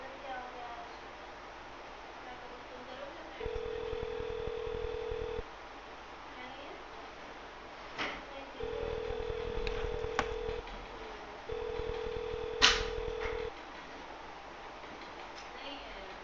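Touch-tone dialing tones from phones used to flood a scam call centre with calls: three steady bursts of a few seconds each, separated by quieter gaps with faint background noise and clicks.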